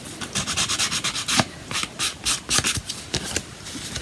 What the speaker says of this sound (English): you can just use like a sander. This is an emery board or whatever you have to kind of get those off and make it look a little